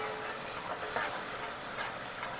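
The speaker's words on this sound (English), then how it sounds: "This is frying up here." Onion, garlic and hot pepper frying in a pot with avocado oil, a steady, close sizzle and hiss holding evenly throughout without a break.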